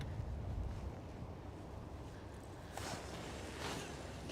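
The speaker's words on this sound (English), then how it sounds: "Can you guys hear that wind rustling through the trees?" Wind moving through the trees along the shore of Lake Guntersville, heard from a fishing boat as a faint, steady breathy rush that swells slightly toward the end, with no talking.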